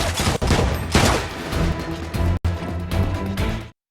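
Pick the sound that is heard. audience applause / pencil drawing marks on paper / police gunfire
police gunfire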